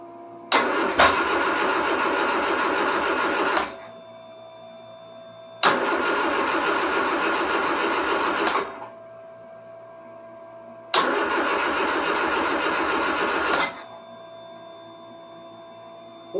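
Three separate cranking attempts of a Triumph Spitfire 1500 engine on a cold start, each a few seconds of loud steady starter churning, with quiet gaps in between.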